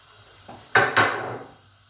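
An egg dropped into a hot pan: two quick close knocks followed by a short, bright sizzle that fades within about a second, with nothing else around it.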